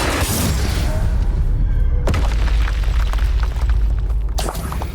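Booming fire-spell blasts from the Hogwarts Legacy video game, with heavy low-end explosions and crackling debris, a sharp new burst near the two-second mark and another toward the end.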